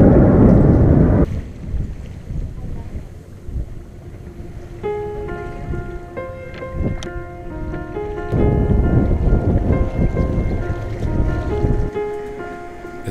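A Blue Angels military jet roars overhead in the Bay Area with deep rumbling and a rising whine of engine tones, no talking.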